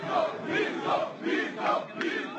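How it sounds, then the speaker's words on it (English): A large crowd at a presidential campaign rally cheers in rhythmic, chant-like surges, roughly two per second, loud and continuous with no single voice standing out. "He points to this, the rapturous applause he's receiving as he travels the country building support for his campaign."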